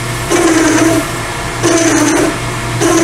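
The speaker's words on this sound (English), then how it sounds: "And just drill the hole out." Lathe drilling a hole in soft jaws, lubricated with diesel fuel and WD-40: a steady motor hum broken by three repeated whining bursts as the drill cuts, loud and close, with no talk.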